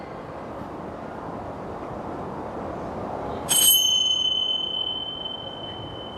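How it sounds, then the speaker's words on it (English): A single struck Tibetan bell rings out once during a yoga class, a clear bright tone that lingers and slowly decays over a steady background hiss. "Using the first ring of the Tibetan bell to bring you back into these four walls."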